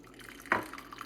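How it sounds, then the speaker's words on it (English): Hot coffee poured from a Moccamaster thermal carafe into a cup, heard as a brief, soft liquid splash in the middle of an otherwise quiet moment. "When you want to pour some, you got to loosen it a little bit, and then pour it into your cup."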